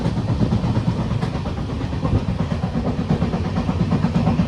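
A crowded passenger train in the Konkan region rumbles steadily along the tracks, with a continuous low roar and faint rhythmic clatter of the carriages and no talking.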